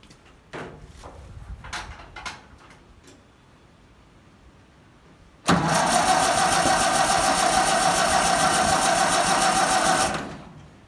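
A Massey Harris 30 tractor engine is cranked on a cold start. A few sharp clicks and taps come first, then loud, steady cranking runs for about five seconds without catching before it cuts off.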